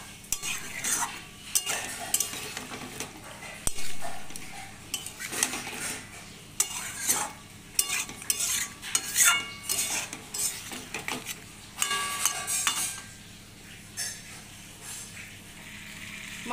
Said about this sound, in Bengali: মশলার সাথে মাছটাকেও আমরা বেশ করে সুন্দর করে কষিয়ে নেব